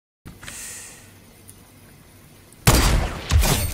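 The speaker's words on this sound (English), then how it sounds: "Headshot sniped." A sniper rifle shot lands a headshot in Fortnite Battle Royale, a sudden loud blast followed by a second burst after a quiet stretch of faint breathing and game ambience.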